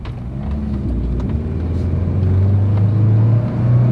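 A car engine misfiring and running rough while driving uphill with the check engine light flashing, a loud, low droning rumble that swells and wavers unevenly as the throttle is held, heard up close with no talk.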